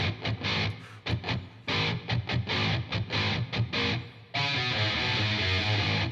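Several layered distorted electric guitar parts playing together, tight chugging bursts with brief gaps, then a full sustained chord ringing out, loud and alone.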